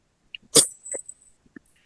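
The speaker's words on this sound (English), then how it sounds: "I heard somebody sneeze just then." A single sharp sneeze breaks out in a quiet room during an online webinar, loud and close, with a few small clicks and rustles after it.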